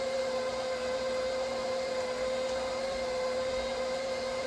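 A meat grinder steadily grinds elk meat while it is pressed through with the back of a spoon, a continuous motor whine with a steady hum and no pauses.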